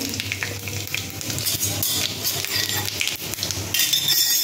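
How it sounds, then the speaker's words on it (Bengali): Five-spice seeds and a bay leaf sizzle in hot oil in a pan, a steady loud frying hiss with faint crackles and a brief clink, close and continuous. "তেলের সাথে 5 ফোড়ন দিয়ে দিলাম আর একটা তেজপাতা"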